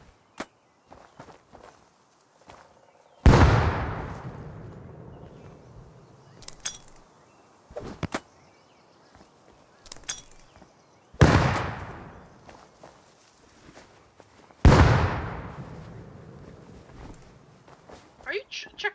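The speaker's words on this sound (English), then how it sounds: "I'm destroying this fucking base with grenades now" Grenades blowing up a base in the Rust video game, with four loud, sharp blasts spaced a few seconds apart, each dying away in a rumbling tail. Smaller clicks and thuds fall between the blasts, and people talk over the action.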